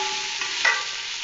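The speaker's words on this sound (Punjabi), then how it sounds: "ਚੰਗੀ ਤਰ੍ਹਾਂ ਕਰ ਦਿਆਂ ਮਿਕਸ, ਨਾਲੇ ਸਾਰੇ ਟਮਾਟਰ ਨਰਮ ਹੋ ਜਾਣ ਔਰ ਨਾਲੇ ਪਿਆਜ਼ ਚੰਗੀ ਤਰ੍ਹਾਂ ਫਰਾਈ ਹੋ ਜਾਣ" Stirring tomatoes and onions frying in ghee in a pan, a steady close sizzle with a brief scrape of the spoon partway through.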